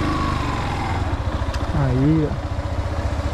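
Motorcycle engine revving and idling during a practical riding exam on a test course, a steady low throb that rises briefly as the throttle opens, with a person talking over it.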